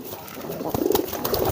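Fighting-type contest pigeons coo softly in a few low, throaty pulses near the middle and end, faint against a quiet background with a murmur of voices.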